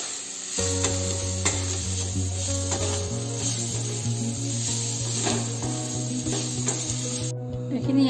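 Chicken with turmeric, spices and garlic paste sizzles loudly in a pan while being stirred, with a constant frying hiss broken by scraping stirs.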